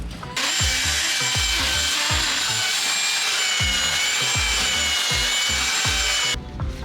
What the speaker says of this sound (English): get really, really aggressive with the belt sander